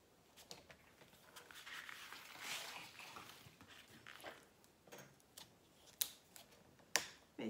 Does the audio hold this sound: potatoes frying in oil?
no